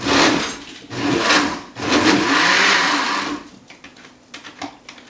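A blender mixing about 4 cups of water and paper pulp whirs loudly in two long bursts, pausing briefly between them, then the motor cuts out and a few clunks follow.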